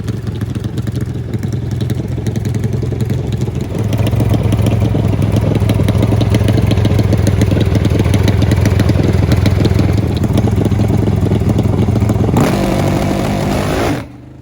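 An NHRA Pro Stock drag racing motorcycle engine idles loudly and close at a test session on a sticky drag strip, with a rough, steady lumpy rumble and a brief rev near the end.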